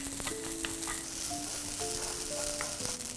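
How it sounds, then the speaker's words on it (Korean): Risotto rice is stirred into butter, garlic and onion in a pan, giving a soft, even sizzle with light stirring noises throughout. "리조또용 밥 넣고 한번 섞어줄게요"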